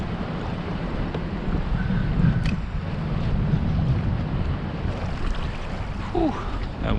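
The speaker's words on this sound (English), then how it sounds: "that wind is whipping" Strong wind whips across open estuary water while fishing from a boat, a steady broadband rush and buffeting against the microphone, with faint water slaps and no clear talk.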